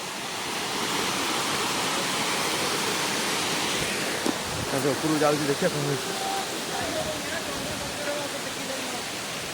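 A hillside waterfall at Ashokjhar roars in a constant broadband rush close by, while people talk briefly over it partway through.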